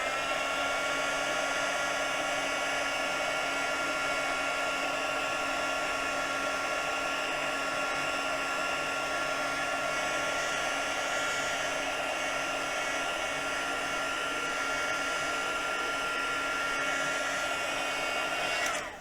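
Heat tool blowing steadily while warming a craft material, a loud continuous whirring hiss that holds unchanged for nearly twenty seconds with no talking over it.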